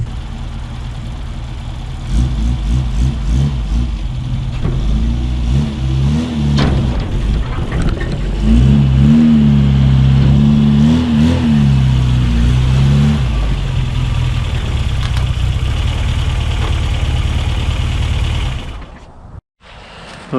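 A Mini car's engine idles and then revs in a few rising, falling pulls as it drives off, loud and near, with a steady hum beneath before cutting out abruptly at the end.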